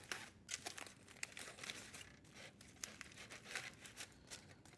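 A hot foil-wrapped baked potato, cooked over a live-fire Breeo fire pit, is peeled open with close, quiet crinkling and crumpling of the foil in irregular bursts, no talking.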